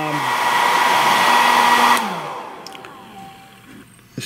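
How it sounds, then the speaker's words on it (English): A hair dryer blows loud and steady at close range, drying out a 1930s Delta DP220 drill press part from the inside, then switches off and winds down, leaving faint clinks and quiet background. "Using a hair dryer."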